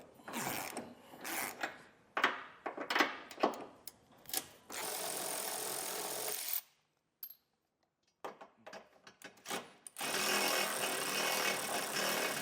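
Impact wrench or ratchet driving an 18mm socket to remove the nuts on a vehicle's bumper beam, in loud mechanical bursts separated by short pauses, with longer sustained runs.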